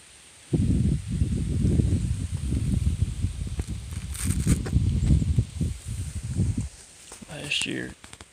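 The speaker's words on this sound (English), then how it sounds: "See how hard the wind's blowing?" Wind gusts through the leaves of Appalachian woods in rough, rushing bursts, loud and close, then easing and picking up again.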